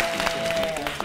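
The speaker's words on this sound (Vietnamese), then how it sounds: "các bạn vỗ tay" Studio audience applause on a Vietnamese cooking game show, a steady wash of clapping that holds at an even level for about a second, with a faint tone running underneath.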